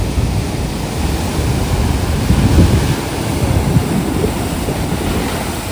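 Rushing sea water surges and churns nearby with a deep, continuous roar and gusty wind noise, swelling briefly in the middle.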